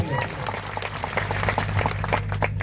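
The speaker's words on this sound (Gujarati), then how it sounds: "એમના માટે પણ જોરદાર તાળીઓ પાડો" A crowd at a tribal leader's political rally applauds police officers, a dense burst of many hands clapping close by, with a voice speaking over it.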